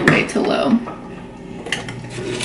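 A spoon stirs rice and water in a cooking pot, with scraping and light knocks against the metal under a person talking.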